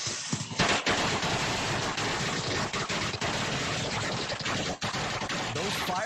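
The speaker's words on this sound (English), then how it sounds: "Fireworks were loud enough to wake up the neighborhood" Fireworks lit and thrown at a family home's doorstep at night go off in a dense, continuous run of loud crackling bangs, harsh and close, with a few sharper reports standing out over the steady barrage.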